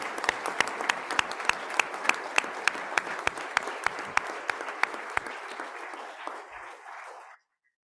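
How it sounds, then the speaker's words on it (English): Audience applause at a school board meeting honoring three retirees, dense steady clapping with a few sharp individual claps standing out, sustained for about seven seconds before stopping abruptly. "So can we give a round of applause for our three retirees?"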